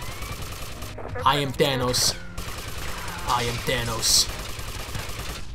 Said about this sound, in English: Look at that, I'm shooting you guys